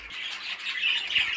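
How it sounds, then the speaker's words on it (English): Budgerigars squawk and chatter in a breeding shed where young birds are being weaned. The calls are dense, continuous and fairly loud, with many birds overlapping close by and no talk. "Lots and lots of birds chattering away as always."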